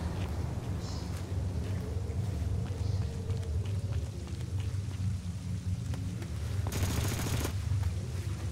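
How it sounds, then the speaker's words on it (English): AK rifle fire in Splinter Cell: Chaos Theory, faint rapid bursts and scattered shots in the distance beneath a dense, rain-like wash of background noise, with one louder burst near the end. "Gunfire down there, Fisher."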